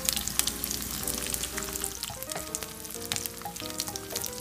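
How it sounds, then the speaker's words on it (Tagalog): Garlic sautéing in a pan of oil for hotdog afritada, a loud, close, crackling sizzle with scattered pops and spatters throughout. "At mag-umpisa na po tayo mag-gisa."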